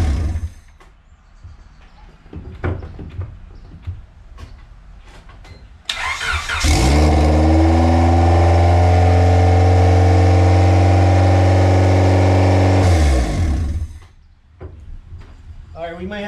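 A 500 hp budget turbocharged Honda Civic sleeper build starts for the first time, cranking and catching into a loud, steady idle that runs for about seven seconds before cutting off. Quieter workshop sounds come before and after.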